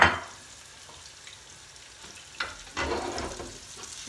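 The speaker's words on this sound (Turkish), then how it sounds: "Daha sonra kalan balıkları da soslayıp unlayıp kızartmaya devam edeceğim." Sardines coated in sauce and flour fry in a pan, a soft steady sizzle with a few sharper bursts of crackling as pieces settle into the hot oil.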